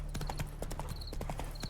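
Horse hooves clip-clop in a steady, repeated rhythm, moderately close, in The Witcher 3, with a faint voice now and then beneath the hoofbeats.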